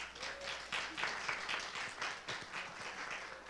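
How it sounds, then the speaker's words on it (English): An audience at a high school orientation gives a round of applause for a counselor, with moderate, steady clapping that continues for several seconds at a middling distance. "Let's give her a round of applause."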